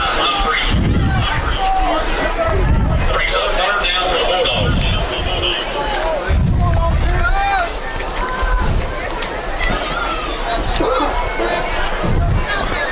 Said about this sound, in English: Nice crowd on hand for homecoming tonight